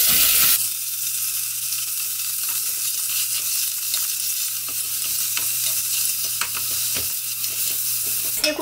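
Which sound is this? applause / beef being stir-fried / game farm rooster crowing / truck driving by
beef being stir-fried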